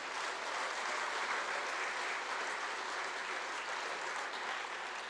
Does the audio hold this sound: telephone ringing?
no